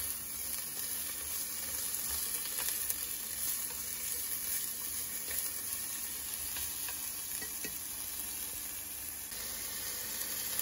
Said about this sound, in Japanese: 肉をちゃんと焼きたいし、また椎茸にもね、まあ焦げ目っていうか